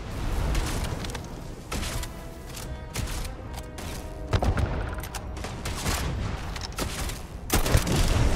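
Particle weapon fire in the game Starfield: a run of repeated loud, crackling energy shots with heavy low thumps, coming in uneven bursts across the whole stretch.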